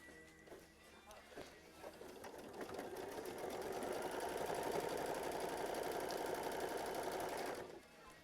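A sewing machine stitches a quilt block, tacking down fabric face side down, with a rapid mechanical whirr that builds up and holds steady for several seconds before stopping abruptly.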